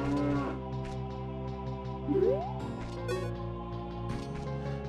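A cow moos in The Legend of Zelda: The Missing Link, a drawn-out synthetic low bellow over looping game music and small sound effects.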